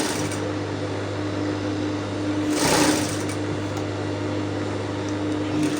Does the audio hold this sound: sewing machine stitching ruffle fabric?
yes